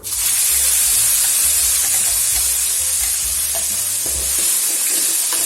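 Ground coriander paste hits a hot pan for coriander rice, giving a loud, hissing sizzle with steam and occasional stirring scrapes, continuous and close, without voices.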